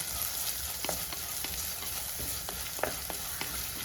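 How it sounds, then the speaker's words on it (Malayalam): Small onions sautéing in a pan for a Kerala-style salad cucumber dish, with a soft continuous sizzle and occasional light stirring taps, fairly quiet and close, no talk. "ചെറിയ ഉള്ളിയും ചേർത്ത് നന്നായിട്ട് വഴറ്റണം."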